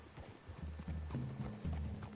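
Horse hooves clip-clop at a steady walking rhythm, close and fairly loud, in the open-world western game Red Dead Redemption 2, with a low rumbling ambience beneath and no speech.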